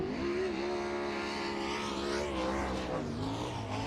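A sprint car on a qualifying lap at Lincoln Park Speedway screams around the dirt oval alone on track, its high-revving engine holding a steady howl, then rising and dropping in pitch through the turns.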